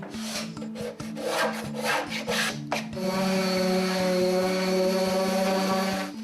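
Short rough scraping strokes rasp against a wooden washer's cabinet as old paint softened by stripper is removed, then a continuous tonal hum takes over; no voices.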